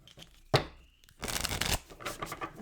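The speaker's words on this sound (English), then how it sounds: "One more shuffle." Tarot cards are shuffled in quick riffling bursts, a sharp snap followed by two longer flurries of crisp paper flutter, close and alone.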